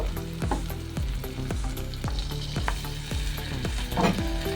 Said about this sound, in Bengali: এবার বেশ ভালো করে আমি মিশিয়ে নেব